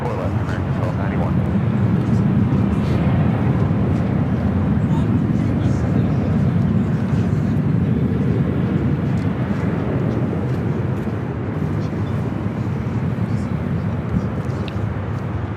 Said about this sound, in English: 2421 taking off to Oakland on the 737-800